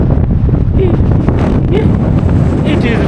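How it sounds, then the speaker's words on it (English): Strong outdoor wind buffets the microphone steadily along a cold roadside trail, a continuous low rumble with faint voice-like sounds in the mix. "Ooh, it's very windy."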